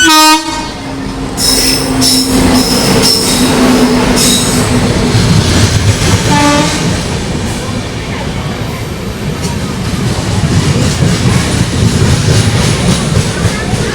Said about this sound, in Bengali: দেখো গাড়ি ট্রেন ঢুকছে